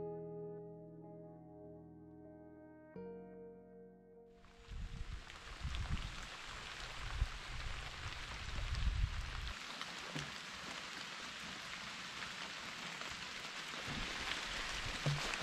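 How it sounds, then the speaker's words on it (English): Steady rain falls during an off-grid dome build, coming in after a quiet opening. It settles into a constant soft hiss that stays fairly faint and far throughout, with no talking. "the steady rain that we're going to have all day"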